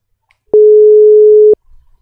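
A single steady telephone ring-back tone about one second long sounds loud and clean during an outgoing call, then cuts off into near silence.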